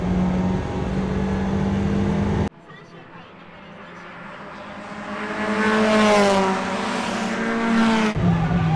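A race car in a racing video game brakes hard into a corner: a loud engine note drops abruptly, then a rising tire squeal and engine whine build and fade before the engine roars back, with a voice over the top.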